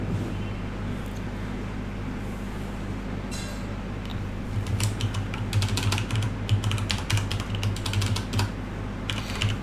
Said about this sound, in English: I'm making a meal of typing as well.